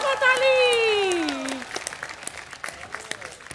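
Audience clapping on command during a Hindi entertainment show, scattered sharp claps following a sustained sung or musical tone, moderately close.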